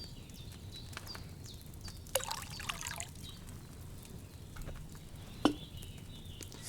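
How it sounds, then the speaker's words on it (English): Wine poured from a pitcher into a cauldron in the video game Kingdom Come: Deliverance 2, a short liquid splash and trickle followed by scattered small drips and a sharper clink, quiet and close. "First, you have to pour the right base into the cauldron."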